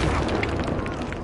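Expulso blast spell cast in a Harry Potter video game, a loud, dense booming burst filling the short moment with rumbling explosive noise and no clear speech.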